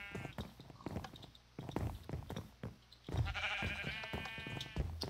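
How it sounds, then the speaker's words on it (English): Sheep in the video game Minecraft bleat in wavering, nasal calls, the clearest one drawn out near the end, over faint knocks and game sounds, with no talking. "There's the town sheep."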